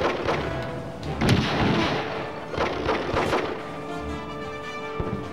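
Gunfire rings out in the Indiana Jones and the Staff of Kings video game: several sharp, loud shots and booming blasts fire in irregular bursts over a low background rumble.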